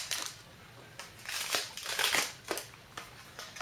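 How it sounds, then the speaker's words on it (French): A small, cheap packaged item is unwrapped up close, giving bursts of crinkling and tearing packaging with brief crushing rustles spread over a few seconds and no talk. "je vais juste le déballer pour vous montrer à quoi il ressemble"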